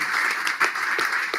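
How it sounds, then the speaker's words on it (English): Sustained round of applause from a pub audience at a politics talk night about fracking, dense continuous clapping filling the room with a few louder claps standing out. "And round of applause"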